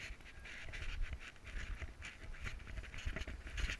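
A Labrador pants quickly and rhythmically, close by, with soft breathy puffs and no talking, during a pheasant hunt in New Zealand.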